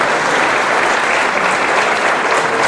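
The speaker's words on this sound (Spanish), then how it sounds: "Fuerte el aplauso" Audience applause at a book presentation event in Tecámac, a steady, dense clapping from a crowd that stays loud and even throughout without any voices on top.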